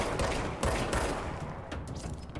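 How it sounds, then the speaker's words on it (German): Rapid gunfire from enemies returning fire in the video game Control, a dense fusillade of overlapping shots with sharp cracks at steady close range, continuous and loud with no talking. "Aber jetzt schießen sie zurück."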